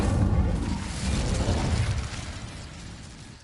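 An Incendio fire spell cast in Hogwarts Legacy bursts out with a loud, broad whooshing crackle that gradually fades over a few seconds, heard alone without talk.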